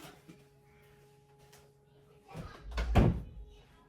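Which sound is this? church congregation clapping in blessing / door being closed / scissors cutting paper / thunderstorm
door being closed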